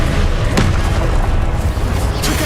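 Incendio fire spell cast in the video game Hogwarts Legacy, a loud, dense burst of roaring flame and booming impacts that fills the whole moment, with a couple of sharp bursts standing out.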